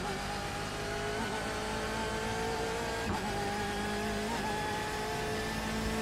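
A race car in the iRacing simulator holds a steady engine note with transmission whine, a continuous tonal drone at near-constant pitch with brief gear-shift blips, loud and with no talking.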